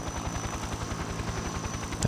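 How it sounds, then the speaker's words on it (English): A video game helicopter thrums with a steady low rotor chop and a constant engine whine, loud and continuous, with no voices over it. "You would think they would hear the helicopter at a distance"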